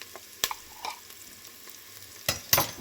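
Onion and garlic sautéing with chili powder in a pan, a quiet low sizzle broken by a few sharp scrapes and clatters of a spatula stirring, no voices.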